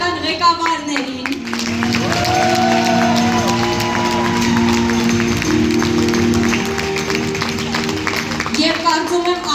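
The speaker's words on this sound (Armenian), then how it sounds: "Հիմա եկեք մեր շնորհակալական ծափերը հայտնենք մեր գեղարվեստական ղեկավարներին։" Applause from a concert hall audience as the performers' artistic directors are thanked: sustained, dense clapping rises and holds steadily for several seconds while a voice speaks over it.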